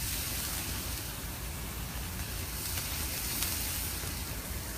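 Steady, dense sizzling of bacon on a hot breakfast grill, a continuous crackling hiss without pauses or voices.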